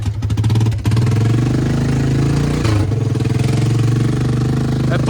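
A warmed-up Honda Rancher 350 ATV engine runs at a steady, close, loud idle with a throbbing low rhythm and slight shifts in pitch.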